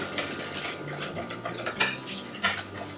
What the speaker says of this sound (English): Gonna mix this together here